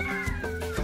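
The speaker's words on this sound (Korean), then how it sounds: "저희 고양이도 있죠." A cat meows several times close by in a lived-in village area on a jungle tour in the Amazon, with steady outdoor background ambience beneath the calls.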